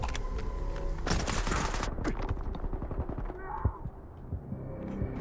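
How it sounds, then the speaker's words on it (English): Gunfire in the Stalker 2 video game, shotguns fired by mercenaries: a dense burst of rapid shots, loud at first and then thinning into scattered blasts, with brief talk mixed in. "Those shotguns hurt."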